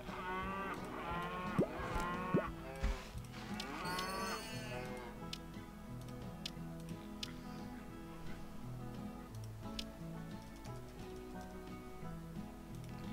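Cow mooing in the farming video game Hay Day, several short moos early on over steady game music and ticking effects, fairly clear and close.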